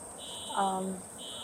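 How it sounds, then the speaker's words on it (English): A hotel fire alarm goes off with a steady, high electronic tone that sounds continuously and briefly drops out, while a voice speaks over it near the middle. "why is the fire alarm going off?"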